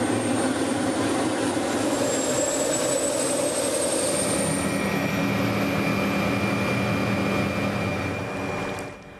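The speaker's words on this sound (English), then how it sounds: "After a short helicopter jaunt" A steady helicopter engine drone, close and constant, with a rising whine layered on top; no voices.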